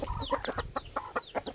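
Chickens waiting to be fed cluck close by in a quick run of short, nasal clucks and brief rising squawks, fairly quiet and steady across the moment.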